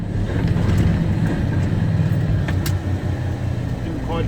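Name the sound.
truck engine accelerating while shifting an 18-speed gearbox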